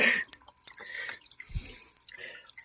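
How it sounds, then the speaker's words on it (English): Water is poured into a fish tank in short splashy bursts and drips, uneven and close, with no voices. "Just pour it in. Pour it in, pour it in."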